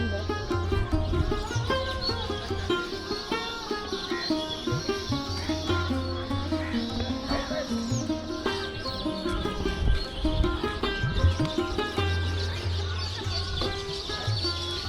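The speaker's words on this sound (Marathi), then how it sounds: "पक्ष्यांचे इतके आवाज येत आहेत ना" Birds calling around a Vitthal Rukmini temple, many chirps and tweets layered over a busy, constant background of other sounds.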